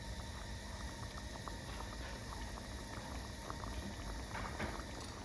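Spaghetti Bolognese sauce seasoned with salt and white pepper simmers in a pan, a steady close bubbling and sizzling hiss with faint popping, constant and unbroken throughout.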